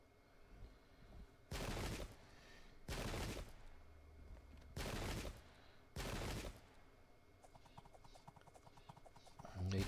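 Ottoman musket volleys in the Pike and Shot video game, four loud broad crackling blasts spaced about a second or so apart, each lasting under a second, set against quieter battlefield ambience.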